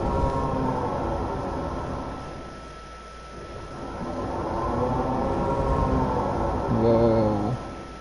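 Launch motor of a roller coaster in the video game Planet Coaster, a loud continuous mechanical rumble with rising and falling whining tones, swelling and easing over several seconds.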